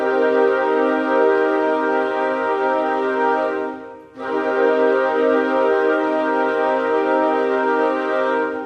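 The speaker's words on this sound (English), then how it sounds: "You can hear a sort of fluttering or movement from the players themselves." A woodwind ensemble holds a sustained chord with a slight fluttering, wavering movement from the players, briefly dipping for a breath around the middle before resuming the same long, steady harmonic tone.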